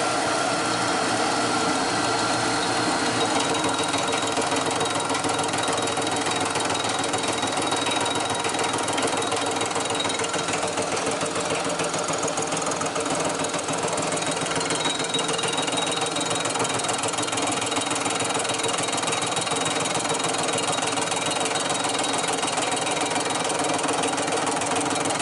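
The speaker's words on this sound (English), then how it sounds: "So we'll cut them off and we'll get to milling." A milling machine runs steadily with a rapid, rattling grind and high whine, continuous and fairly loud throughout, cutting metal parts for compound carburetors on a 1929 roadster pickup.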